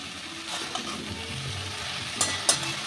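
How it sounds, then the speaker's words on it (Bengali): Vegetables and ash gourd shoots frying in a pan for a Bengali hilsa-head shukto, a steady close sizzle with a few sharp stirring scrapes near the end and no talk. "এটাও একটু ভালো করে ভেজে নেব"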